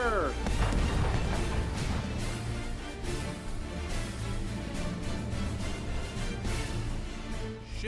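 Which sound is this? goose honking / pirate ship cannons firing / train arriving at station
pirate ship cannons firing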